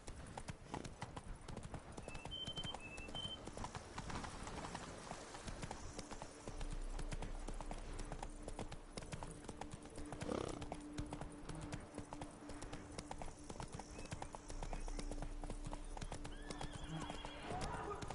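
Hooves of the horse Roach clip-clop at a steady gallop through The Witcher 3: Blood and Wine, a constant rhythmic beat under ambient game sound, with a brief whinny near the start.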